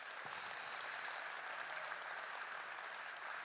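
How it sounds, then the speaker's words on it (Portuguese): A church congregation applauding in praise of Jesus during a sermon, a steady, faint, distant wash of clapping filling the hall evenly throughout, with no voices standing out. "Quem pode dar um aplauso ao Senhor Jesus?"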